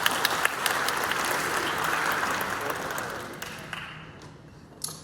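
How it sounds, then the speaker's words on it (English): Audience applause fills a school band's spring concert hall, a dense, steady clapping crowd that holds strong for about four seconds before thinning out toward the end. "It's like, go ahead and clap,"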